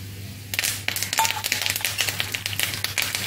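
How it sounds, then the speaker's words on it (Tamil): Curry leaves drop into hot oil for tomato pepper rasam and spit in a dense crackling patter of sharp pops, close and continuous, over a low steady hum from the stove. "கருவேப்பிலை போடும்போது ரொம்பவும் தெரிக்கும்."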